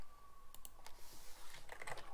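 Quick bursts of keystrokes on a computer keyboard while text is entered in After Effects, a loose run of close clicks and taps building toward a denser cluster, heard alone.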